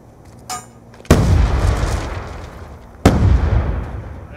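Two loud grenade blasts in a search-and-destroy match of a first-person shooter, each a sharp crack followed by a rumbling decay, about two seconds apart, with a small pop just before the first.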